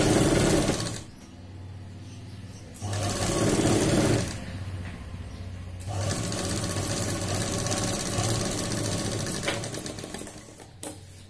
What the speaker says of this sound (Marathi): आणि त्या 1/2 इंचाची जी आपण मार्किंग केलेली त्याच्यावरती सरळ टिक मारून घ्यायची